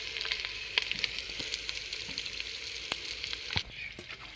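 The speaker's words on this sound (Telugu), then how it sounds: "తాలింపులు వేస్తున్నా" Tempering spices sizzle steadily in a hot pan for a fish curry, a close, continuous frying hiss dotted with sharp spattering pops and a few clicks, with no voices.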